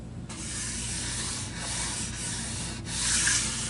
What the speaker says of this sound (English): now I can just take my radius sanding block and just go across this.